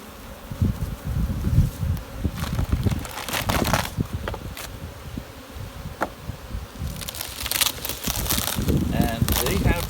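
Honeybees buzz around open hives holding fresh white comb in a honey super, a busy humming swarm with scattered crackles and knocks from handling the frames, while a person talks nearby.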